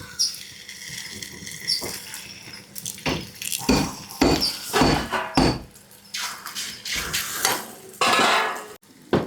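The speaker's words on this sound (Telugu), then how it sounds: "ఇప్పుడు చపాతీ ఒక్కొక్కటి వేసి కాల్చుకుందామండి." A chapati is set on an oiled pan and roasts, with bursts of sizzling, scraping and clattering of pan and utensils at an uneven rhythm, loud and close.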